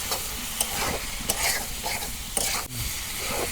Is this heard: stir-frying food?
yes